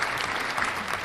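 An audience gives a round of applause, a short burst of thick, continuous clapping that is loud and close.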